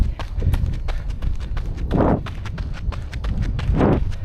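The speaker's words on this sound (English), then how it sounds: "There are horses down there" Horses' hooves clip-clopping at a steady trotting rhythm, fairly loud and close, with no talk over them.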